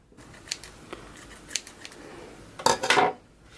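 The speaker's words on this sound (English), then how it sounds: "Cut another piece for the center" Scissors cut ribbon for a quick gift bow, a few light metallic snips, then a louder, longer rasping cut near the end, close by and without talk.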